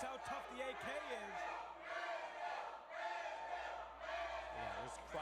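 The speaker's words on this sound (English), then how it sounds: "this crowd is on their feet and out of their mind" A wrestling crowd at a pro wrestling event roars and cheers continuously, with loud shouting voices rising and falling throughout.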